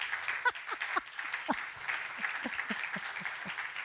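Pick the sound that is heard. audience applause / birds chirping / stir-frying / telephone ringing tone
audience applause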